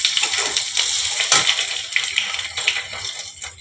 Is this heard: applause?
no